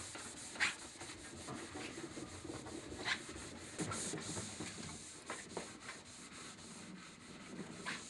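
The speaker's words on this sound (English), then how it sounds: "So you just pretty much want to buff that wax out, buff it down." Ski base being buffed after scraping off wax: soft, repeated rubbing strokes with a brushing texture, close but quiet, no voices.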